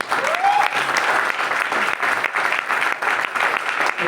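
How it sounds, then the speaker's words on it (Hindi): A packed crowd at a Varanasi event gives loud applause for the people standing at the back, dense clapping throughout with a brief whistle-like tone rising near the start. "पीछे जो भाई लोग खड़े उनके लिए जोरदार तालियां"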